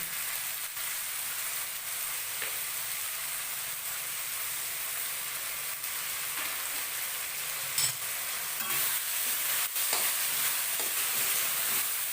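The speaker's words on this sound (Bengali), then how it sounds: "এখন তাকে দিয়ে দিচ্ছি টমেটো পিউরি।" Tomato puree sizzles in a pan of frying chilli fish, a steady close hiss throughout with a few faint stirring clinks and no voices.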